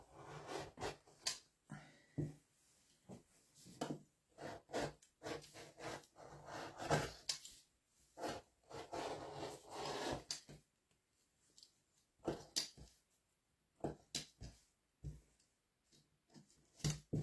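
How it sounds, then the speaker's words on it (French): Scissors cutting through a t-shirt fabric during sewing preparation, close and quiet, with repeated snipping and rustling bursts in irregular clusters separated by short pauses. "Je finis de découper mon t-shirt."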